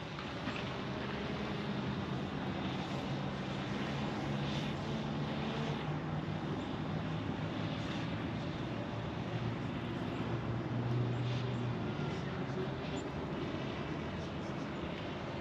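A GoPro Karma drone flies continuously overhead, producing a steady, even motor whine and hum that holds at moderate level for a long stretch without pauses or voices.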